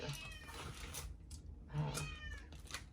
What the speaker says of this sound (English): Don't mind my cat, y'all.